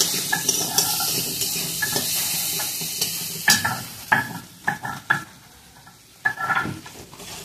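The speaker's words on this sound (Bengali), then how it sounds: "আলুগুলো লাল লাল করে ভাজা হয়ে গেছে, খুব সুন্দর করে ভেজে নিয়েছে" Potatoes seasoned with salt and turmeric fry in oil in a pan for a prawn and pointed gourd dolma, with a steady sizzle broken by irregular scraping and clattering strokes of a spatula stirring them.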